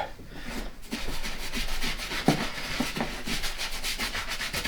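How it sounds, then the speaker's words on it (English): A cloth rubs briskly over an old leather walking boot during cleaning, making repeated close scrubbing and brushing strokes in an uneven rhythm, with a slight knock midway. "Give it a good rubbing all over."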